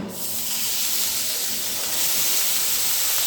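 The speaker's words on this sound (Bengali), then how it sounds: "তখন এর মধ্যে দিয়ে দিতে হবে সেই আম" Raw mango dropped into hot oil with panch phoron bursts into a loud sizzle that stays as a steady, dense hiss, close up, with no talking.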